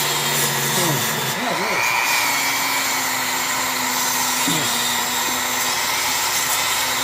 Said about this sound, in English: I actually do the Dremel again.